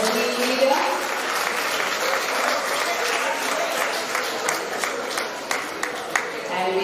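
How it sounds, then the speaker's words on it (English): A big round of applause for a team at a youth entrepreneurship event, sustained crowd clapping that stays full and steady, with a few sharper claps near the end. "A big round of applause"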